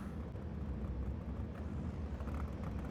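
An original Suzuki Escudo engine drones steadily under acceleration in Gran Turismo 7, a loud, even low rumble with no breaks.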